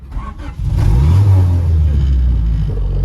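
A carbureted car engine cranks briefly, then catches and revs into a loud, steady rumble held close by for the rest of the clip, with no talk over it.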